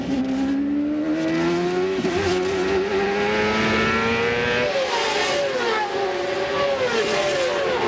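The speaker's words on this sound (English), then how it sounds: "Richie's been running the development Toyota engine." A Toyota development engine in a CART Champ Car, heard onboard during the race at Mid-Ohio, drones loud and steady, its pitch rising and dipping through gear changes with other cars nearby.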